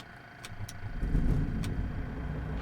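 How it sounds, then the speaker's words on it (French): A light aircraft engine in Microsoft Flight Simulator 2020 turns over and catches, then settles into a low, steady rumble that swells and holds. A few faint clicks come first, and no one talks over it. "Ok, je vais démarrer donc mon moteur."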